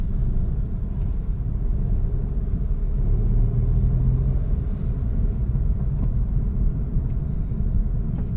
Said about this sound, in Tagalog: Heavy traffic na rito.